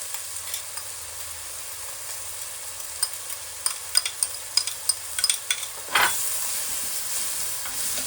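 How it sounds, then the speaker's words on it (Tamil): Onions for a turkey berry curry fry in a pan, a quiet steady sizzle with a run of clicking spatula strokes, then a louder hissing surge as more goes into the hot oil. "இப்போ நான் இந்த வெங்காயத்தை போட போகிறேன்"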